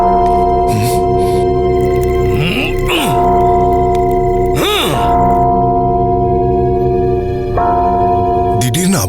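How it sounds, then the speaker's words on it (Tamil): A bell-like alarm rings out at night in a royal palace setting, with sustained ringing tones and swooping pitch bends recurring across the stretch, loud and close under a dense dramatic soundscape. "இது அபாய மணியோட எச்சரிக்கை ஒலி"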